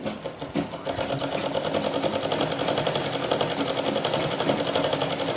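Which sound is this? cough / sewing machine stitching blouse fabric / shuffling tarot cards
sewing machine stitching blouse fabric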